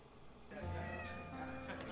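A cat meows in the video game Deadly Premonition, a single drawn-out call rising and holding under a steady game background, close and clear.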